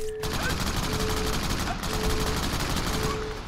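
Gunfire in the Crackdown video game, loud rapid automatic bursts of shots rattling in close succession with brief pauses between volleys.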